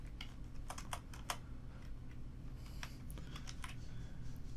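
Fingers tapping out text on a computer keyboard, quick irregular bursts of clicky keystrokes close to the mic, with a faint steady hum underneath and no talking.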